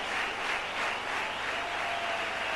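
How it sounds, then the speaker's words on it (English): Distant crowd applause and cheering from a large cricket stadium in Mumbai as a batsman reaches 99 runs, a continuous wash of clapping and noise at moderate volume. "Do you hear the applause, Jeff?"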